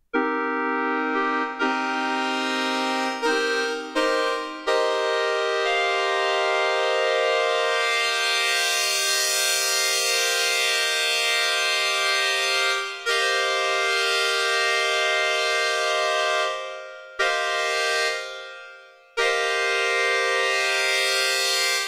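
Arturia MiniFreak synthesizer FM tone with feedback added, giving a buzzy, saw-wave-like timbre; a long, loud, sustained note that swells and brightens over time, with a few brief breaks and retriggers and no talking.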